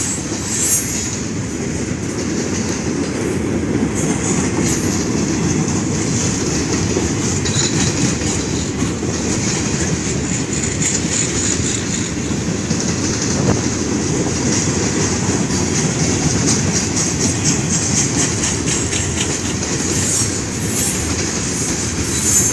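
A Union Pacific freight train rolls steadily past in Effingham, Illinois, a loud continuous rumble of rail cars with wheel squeal and clattering throughout.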